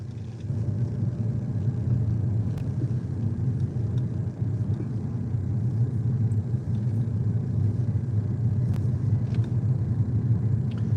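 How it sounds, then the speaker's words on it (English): Car driving slowly, around 15 miles an hour, along roads near Grand Havre Bay on Guernsey; a steady low engine and road rumble continues throughout with no speech. "I'm driving about 15 miles an hour"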